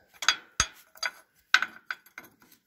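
Wrench working loose the 1-inch transmission drain plug on a John Deere 420 crawler: about seven sharp metallic clicks and clanks in an uneven rhythm, close and fairly loud, with no talking.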